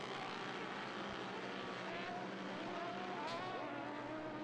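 Off-road UTV race vehicles roar down the front straightaway at Glen Helen in a Lucas Oil Off Road Series round, engines droning steadily at a distance with a faint rising whine as they pass.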